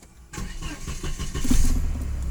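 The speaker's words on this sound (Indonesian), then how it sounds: "Nah tuh, sekarang saya starter." A 1993 Volvo 960 with a 2.3 turbo engine and automatic gearbox cranks briefly and fires up, settling into a steady, loud idle close by after a moment of quiet.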